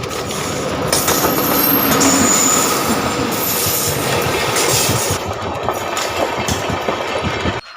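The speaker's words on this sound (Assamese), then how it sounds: "ৰেলটো আহি পালে" A train rolls along a railway track in Assam, close and loud, its wheels rumbling with a high metallic squeal over a steady engine drone for most of the clip.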